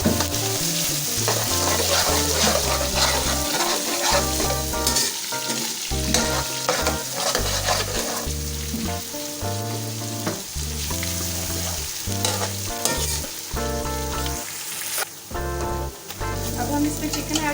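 Onions browning in a pan with garlic-ginger paste for chicken biryani: a constant close, loud sizzle and crackle of frying, with intermittent clatter of stirring.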